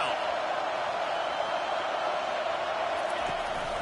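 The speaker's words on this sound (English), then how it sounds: "Decibels rising as the crowd gets behind this defense on third down." Football stadium crowd roaring steadily on a third-down defensive stand, a dense, loud, continuous wash of cheering with no breaks.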